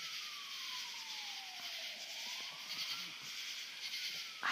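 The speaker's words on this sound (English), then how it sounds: "now there's sirens. Can y'all hear that?" A siren wails in the distance, its pitch sliding down and rising again in a slow sweep over faint background noise.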